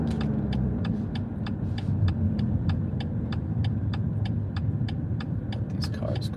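Cars roll past on a Tokyo street, heard from inside a BMW pulled over at the roadside, as a steady low rumble of traffic with a sharp, regular ticking at about three clicks per second throughout.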